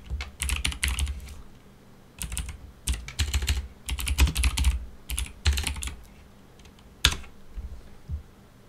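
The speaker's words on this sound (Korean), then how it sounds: "키보드 소리 좀 거슬리시나요?" Close-up typing on a computer keyboard: clustered bursts of rapid keystrokes separated by short pauses, with a few sharp isolated taps near the end and no voices.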